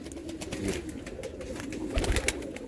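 Pigeons cooing softly in a continuous murmur of overlapping calls, with some low rustling and fluttering in the background.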